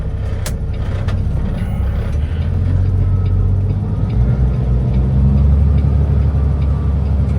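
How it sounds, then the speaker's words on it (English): A truck drives behind on the road beneath a steady, loud low engine rumble and road roar that swells slightly toward the end, with no talking. "Truck behind us."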